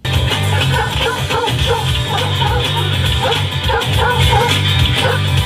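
A loud song plays with dogs barking repeatedly in rhythm throughout the music, filling the space through the 8-speaker sound system of a 2020 Mazda 3.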